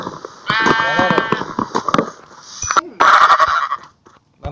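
Sheep in the Minecraft video game bleat several times in quick, nasal calls, heard alongside game noises and people talking.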